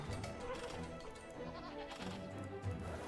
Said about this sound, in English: They're not even sheep, they're goats.